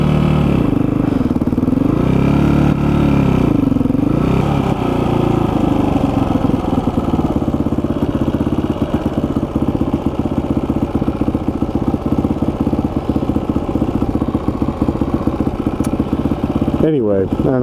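A motorcycle engine idles unevenly, giving a loud, close, lumpy rumble with irregular clattering pulses that continue steadily before a brief burst of noise at the end.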